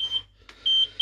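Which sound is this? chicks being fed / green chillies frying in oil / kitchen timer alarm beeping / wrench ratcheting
kitchen timer alarm beeping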